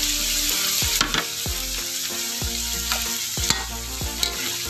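Cheese dogs sizzle and fry in a pan, a steady close crackle with stirring clatter and a few sharp utensil knocks, no talking.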